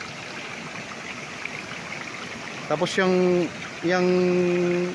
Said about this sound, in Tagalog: sementadong yan na may mga bumabagsak na tubig, yan po ay irrigation naman